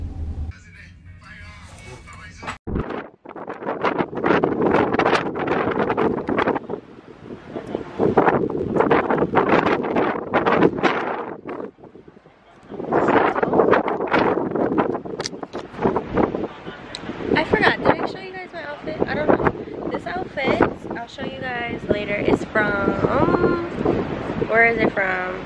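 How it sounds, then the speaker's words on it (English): Strong wind buffets the microphone outdoors on a cruise ship deck, a steady loud rushing roar that swells and gusts throughout, with people talking over it. "it's super windy out here"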